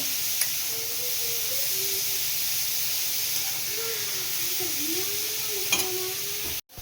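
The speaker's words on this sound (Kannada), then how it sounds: "ಫ್ರೈ ಮಾಡ್ಕೊಬೇಕು ನೀಟಾಗಿ ಇದು ಕ್ಯಾರೆಟ್ ಹಸಿ ವಾಸನೆ ಎಲ್ಲ ಹೋಗಬೇಕು" Grated carrot fries in ghee in a pan for carrot halwa, giving a steady sizzling hiss with soft stirring scrapes throughout, fairly close and uninterrupted, ending in a brief clunk.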